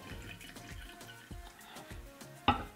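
Woodbridge Pinot Grigio white wine, 2017, poured as a sample into a glass, a soft, steady liquid trickle with light gurgles, close and quiet, ending in a sharp clink.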